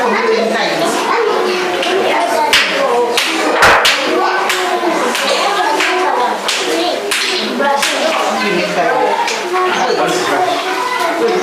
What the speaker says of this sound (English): can you clap for me 10 times?